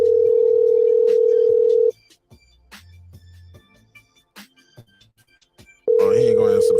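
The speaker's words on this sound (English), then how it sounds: "Oh, he ain't gonna answer the phone." Ringback tone on an outgoing phone call, a loud steady tone lasting about two seconds, then several seconds of near silence with faint clicks, then the tone returns.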